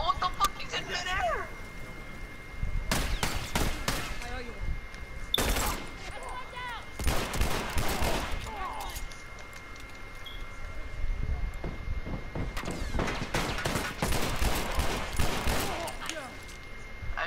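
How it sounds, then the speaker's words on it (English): Video game gunfire, repeated bursts of rapid shots and volleys at varying distances, loud crackling clusters separated by short pauses. "I just heard pure gunshots, bro."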